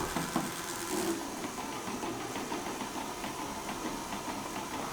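A fischertechnik pneumatic model compressor runs with a steady mechanical whir and fast, regular ticking, close and continuous with no talking.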